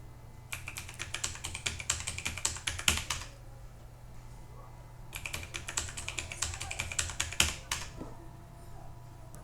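Rapid keystrokes on a computer keyboard entering an Aadhaar number into an online registration form, two close bursts of quick clicky typing separated by a short pause.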